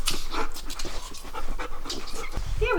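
A pet dog pants rapidly and steadily up close, the quick breathy huffs continuous throughout with a brief whine-like tone near the end.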